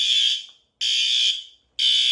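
During routine building alarm testing, a fire alarm horn strobe blares in loud, steady bursts, about three long tones separated by short silences, with no speech.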